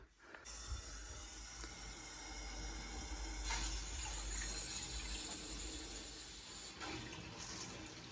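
Water rushing through household plumbing as the cold supply is turned back on during a leak repair, a steady hissing flow that holds for several seconds close by, with no talk.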